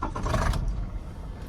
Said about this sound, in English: See, reverse gear is still grind.